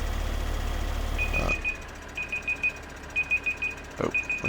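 Beeping timer alarm in the farming game Farming Simulator 2015, sounding as repeated bursts of rapid high-pitched beeps in a steady pattern over a quiet background, with a low rumble cut off early.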